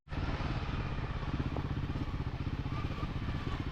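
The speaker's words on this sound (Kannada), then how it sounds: "ಇಂಜಿನ್ ಬ್ರೇಕಿಂಗ್ ಮಾಡ್ಕೊಂಡೆ ಗಾಡಿ ಇಳಿಸ್ಬೇಕು" Motorcycles on a large group breakfast ride rolling downhill under engine braking, a loud, close, steady rumbling engine drone with rapid rhythmic pulsing, continuous throughout and without speech.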